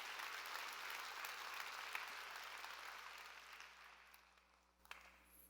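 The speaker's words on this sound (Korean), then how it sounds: "믿으면 박수" A church congregation applauds during a sermon, broad sustained clapping from many hands heard at a distance, fairly soft and slowly fading toward the end.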